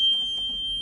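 A John Deere 5310 PermaClutch tractor gives off a steady, high-pitched warning beep that holds unbroken and fairly loud under a low background rumble.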